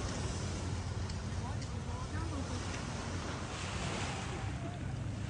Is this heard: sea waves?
yes